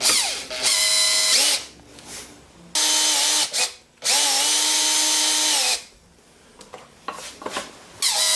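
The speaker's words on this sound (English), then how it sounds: "So here I'm going to drill the pivot points and put in the nuts and bolts." A power drill bores pivot-point holes in wood for a self-centering drill jig. Three loud, steady whining runs are separated by short pauses, and faint handling noise follows.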